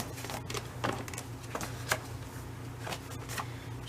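Paper is cut to size for a fall craft project, a loaded bag, as several soft crisp snips and rustles come over a steady low room hum, close by and with no speech.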